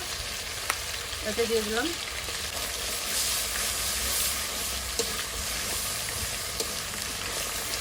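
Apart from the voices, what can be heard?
frying homemade spice mix in pan for murighonto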